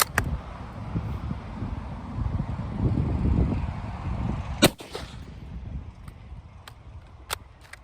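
A rifle fires East German 1959 surplus 8mm rounds outdoors, one sharp loud crack in the middle followed by a few fainter distant reports over steady wind noise.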